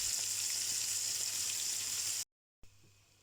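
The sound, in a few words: floured fish frying in oil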